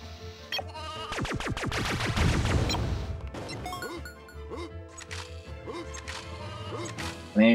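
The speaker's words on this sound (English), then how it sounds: "There's some sheep." Sheep bleat in a PS1 video game demo featuring Buzz and Bo Peep: several wavering bleats come up close, mixed with game music and a few thwacks and crashes.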